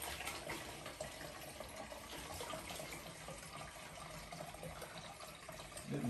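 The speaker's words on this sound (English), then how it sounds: "We're going to fill it up with water here." Water runs and splashes steadily into the tank of a Farberware countertop dishwasher, a continuous broadband pour with no voices, slightly louder near the end.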